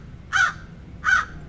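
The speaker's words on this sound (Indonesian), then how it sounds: "burung gagak sedang bernyanyi dengan suaranya yang parau" A crow gives two hoarse, rasping caws, evenly spaced and fairly close, against a quiet background.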